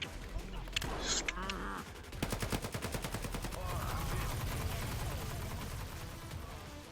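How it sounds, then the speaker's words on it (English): Bursts of automatic gunfire in a VR roleplay shooter, a rapid rattling volley of close shots followed by more scattered fire, with a voice talking over parts of it. "Put some covering fire down and drag that body."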